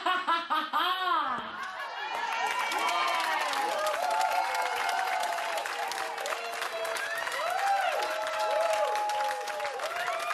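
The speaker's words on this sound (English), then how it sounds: "Give Maloney a round of applause." A studio audience at a Big Brother's Bit on the Side live show breaks into sustained applause mixed with laughter and cheers, loud and steady after a brief opening of talk and chuckles.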